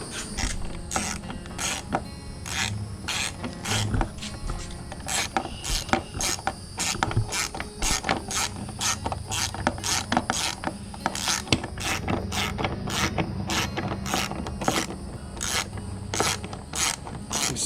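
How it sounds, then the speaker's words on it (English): Repeated ratchet clicks from tightening a spark plug on a 2017 Suzuki 300 HP outboard, a steady run of sharp, close mechanical ticks in quick bursts over roughly eighteen seconds, with no talking. "Kind of ratchet a little bit until you get it started and feel it starting"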